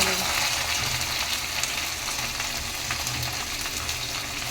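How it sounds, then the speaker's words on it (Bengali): Hot oil spatters and sizzles loudly as cumin, onion and chili fry in a pan, a dense steady crackle that runs throughout. "মা তেল ছিটছে গো"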